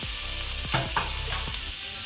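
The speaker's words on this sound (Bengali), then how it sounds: "আলুটাও এর মধ্যে দিয়ে দিচ্ছি।" Potatoes tipped into a pan of hot oil while cooking a koi fish curry with mankochu, a close steady sizzle with a few spoon knocks and stirring scrapes.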